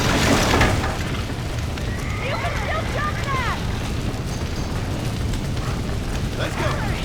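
A horse in the video game Red Dead Redemption lets out a wavering whinny amid loud, rushing in-game noise, with a voice talking nearby.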